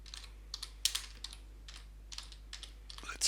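Someone types a client name on a computer keyboard: a quiet run of scattered, uneven keystrokes with short pauses between bursts. No one speaks.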